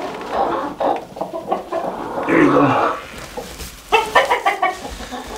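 Broody hens cluck nearby in soft, repeated bursts and low grumbling calls, with a brief spoken voice over them.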